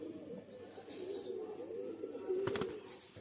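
Pigeons cooing softly in a low, rolling murmur, with a brief flutter or scuffle partway through.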